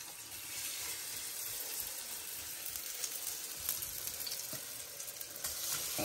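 Cabbage pastry sizzles quietly in a frying pan with soft crackling and occasional scraping as it is spread out.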